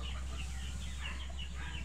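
Gilmore gamefowl hens cluck softly in a chorus of short, overlapping calls, fairly faint over a steady low hum, no talking.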